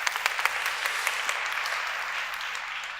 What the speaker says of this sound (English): give her a warm applause, thank you very much.